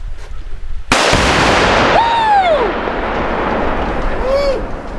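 At a turkey camp, a Tannerite charge shot at a refrigerator goes off in one sudden, loud blast that rolls into a lingering rumble, followed by sharp whistling tones and people's voices.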